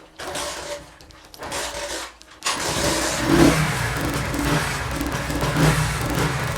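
A Honda CD70 motorcycle running on a generator gas kit cranks a couple of times with short bursts, then catches and settles into a steady, loud idle that lasts to the end.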